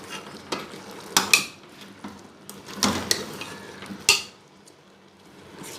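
A spoon mixes tamarind into black chana chaat, giving scattered clinks and scrapes against the bowl with soft wet stirring between the sharper knocks.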